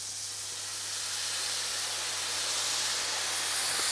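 Marinade hitting a hot pan of bamboo-skewered tapas, giving a loud, steady steam-like hiss that builds slightly and carries on unbroken.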